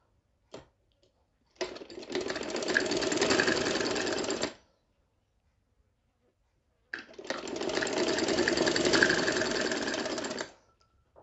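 A sewing machine stitching kurti sleeves runs in two long bursts of rapid mechanical whirring, each a few seconds long, with a short quiet gap between them and a tiny click near the start.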